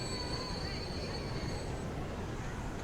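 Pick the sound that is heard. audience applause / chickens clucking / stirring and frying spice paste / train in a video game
train in a video game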